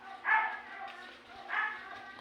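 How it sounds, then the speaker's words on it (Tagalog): A neighbour's dog barking nearby, two muffled barks about a second apart, moderately loud. "Pagpasensya nyo na lang yung aso sa kapitbahay namin, guys. Kasi, maingay."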